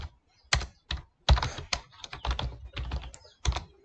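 Close keystrokes on a computer keyboard come in irregular bursts and single taps, loud and clear with no voices.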